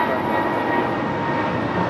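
Jet airliner departing from a north side runway at LAX, a steady loud broadband roar of engines that holds evenly throughout, with no pause or fade.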